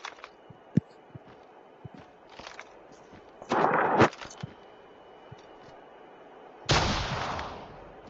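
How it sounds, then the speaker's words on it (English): Distant sniper shots and gunfire in a battle royale video game, with a few sharp single cracks and two longer bursts of noise set against a quiet background. No speech is heard. "I hear snipers."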